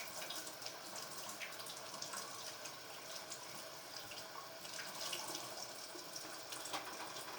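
Tap water runs steadily into a sink during handwashing in a home kitchen, a continuous close hiss with no talk.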